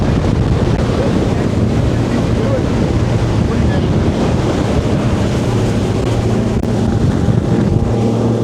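A Freeman 37VH centre-console boat (2017) runs at sea around 4,000 RPM, its engine roar blending with loud, constant wind buffeting the microphone and rushing water, with no clear talk.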